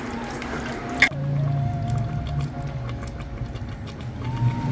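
Water is poured into a pot of chicken biryani cooking in hot spices and oil, a sharp splash followed by a steady liquid pour and bubbling that carries on for several seconds at close range.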